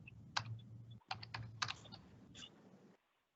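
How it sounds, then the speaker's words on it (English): Keys on a computer keyboard tap in a quick burst of clicks, then a short pause and a second run of clustered keystrokes, close by and clear, ending in silence. "you can type the date now"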